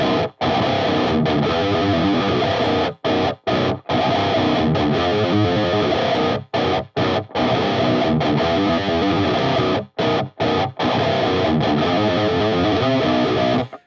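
Heavily distorted electric guitar playing a riff, loud and continuous, with open low-string chugs and brief muted stops breaking the rhythm, with no talk.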